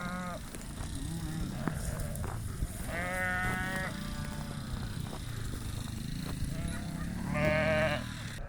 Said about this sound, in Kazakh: Қойларды қамап болдық, міне малдары келатыр.